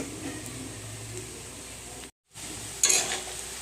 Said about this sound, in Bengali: এভাবেই ভেজে নিয়েছি পেঁয়াজটা, এর চেয়ে বেশি আর ভাজবো না।